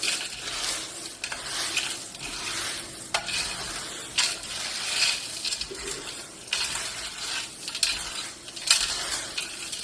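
Dry beans are tossed and stirred together in a big pan, giving a steady, close rattle and rustle with rhythmic scraping swells throughout.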